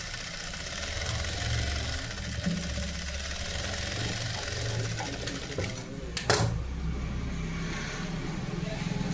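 A sewing machine stitches a lehenga with a steady, continuous mechanical whir, close and loud, holding an even rhythm with one brief clatter midway.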